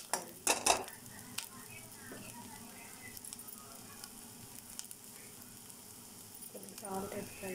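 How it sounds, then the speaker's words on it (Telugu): Garlic, ginger, green chilli, carrot and cabbage fry in a pan for chicken fried rice, a soft sizzle with sharp metallic clanks of a spoon stirring at the start and again near the end. "ఫ్రై చేసుకోవాలి"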